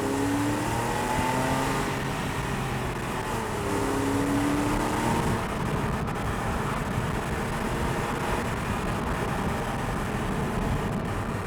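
The engine of a Porsche 911 997.2 Carrera S rises and falls in pitch as the driver downshifts a manual gearbox, a loud steady drone from inside the car with rising rev sweeps.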